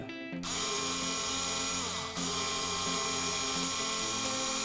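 An electric screwdriver whines steadily, winding melted 8mm tape back onto its reel, a loud continuous motor drone that starts abruptly and holds for several seconds.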